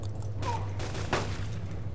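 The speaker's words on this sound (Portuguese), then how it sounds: "Nossa, errei o tiro." Gunfire from the DayZ Mod video game, a single shot cracking out in a broadband burst midway through over a steady low game hum and ambience.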